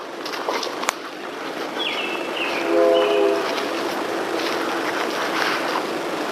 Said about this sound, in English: Well, here comes another train.